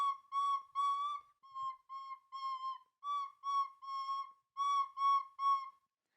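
A person whistling a string of about a dozen short, clear notes in small phrases with brief pauses between them, close and distinct against silence, with no talking.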